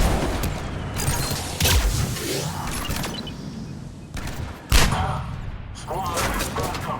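Gunfire in the video game Mass Effect 3 comes in several loud bursts and thuds over a noisy battle bed, with voices calling out between the shots.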